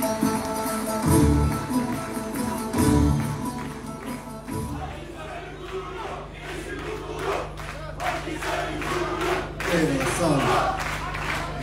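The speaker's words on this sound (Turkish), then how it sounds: "kocaman alkışlarınızla sahneye davet ediyorum" Crowd applause and cheering at an outdoor opening ceremony for a covered marketplace in Akhisar, Turkey, welcoming the mayor to the stage; sustained loud clapping with shouts and a music-like tonal layer underneath.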